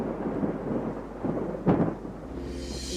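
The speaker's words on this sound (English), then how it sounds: "When the rain falls hard" Heavy rain pours in a steady wash while thunder rumbles low and a single crack breaks through midway, loud and close, with no voices.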